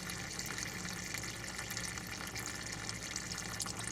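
Transmission fluid drains from a Nissan Maxima in a steady, continuous liquid stream, a soft splashing pour with no talk over it.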